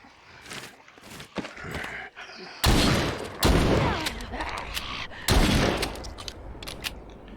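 Loud, close shotgun blasts ring out in The Walking Dead: Saints & Sinners, three heavy booms spaced a second or so apart. Scuffing footsteps and quieter handling noises fill the gaps between them.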